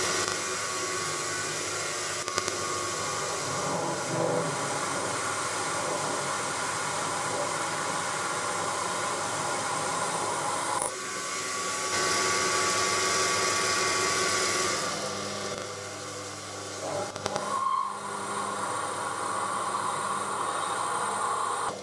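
Metal lathe turning a workpiece with a centre drill cutting the centre before a V-groove, a steady broadband whir and hiss of motor and cutting running continuously, near and fairly loud, with slight shifts in tone partway through.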